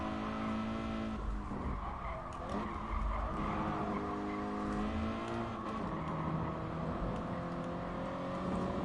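Toyota 86 in GT Sport on the Nordschleife, engine droning steadily while tires scrub and skid under hard braking, a continuous loud game mix with no talk.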